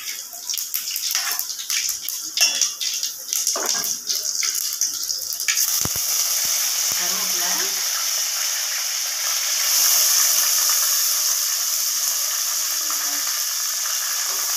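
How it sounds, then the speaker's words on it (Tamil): Cumin and fennel seeds splutter in hot oil for a field crab curry, with sharp crackles and pops at first that settle into a steady close sizzling hiss. "அரை ஸ்பூன் சீரகம் சோம்பு ஒரு கால் ஸ்பூன் போட்டுக்கணும் இதெல்லாம் நல்லா வெடிக்க ஆரம்பிக்கணும்"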